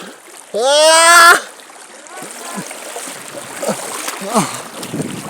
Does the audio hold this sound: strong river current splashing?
yes